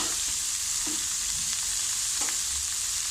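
Sliced onion and beans stirred and sizzling in a frying pan for beans thoran, a steady broadband fry hiss throughout with a few soft scraping stirs of the utensil, close and continuous, no talking.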